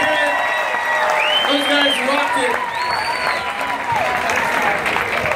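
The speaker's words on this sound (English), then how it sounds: "Give them all a big round of applause." Audience aboard the Allure of the Seas cruise ship applauds and cheers after a team quest game, a steady roar of clapping and whoops with a voice calling out over it throughout.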